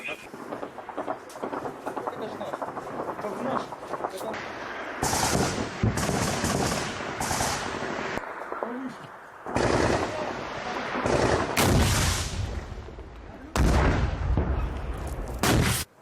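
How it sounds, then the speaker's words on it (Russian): Bursts of heavy DShK machine gun fire in a combat setting, several loud sustained volleys separated by short pauses, with rumbling echoes between them. "ДШК!"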